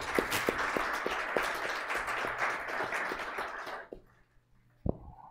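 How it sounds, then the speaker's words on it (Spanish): An audience in Vitoria gives a welcoming round of applause before a talk on technology and democracy. Sharp individual claps stand out in the sustained clapping, which stops abruptly near four seconds, followed by a brief quiet and one isolated clap. "ofrecerle un aplauso de bienvenida a Vitoria"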